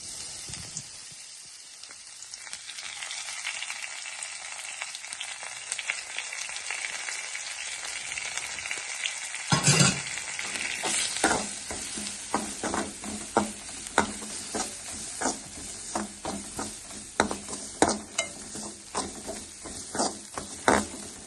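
Rasam spice mix with dried red chillies and curry leaves frying in a pan, a steady sizzle that swells sharply midway, then scraped and stirred with repeated clicking strokes against the pan.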